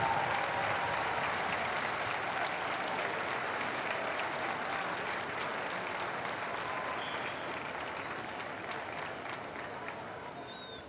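A large outdoor crowd applauds steadily as Pope Francis appears for the Sunday Angelus, a dense, continuous wash of clapping that fades slightly toward the end.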